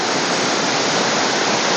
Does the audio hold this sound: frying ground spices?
no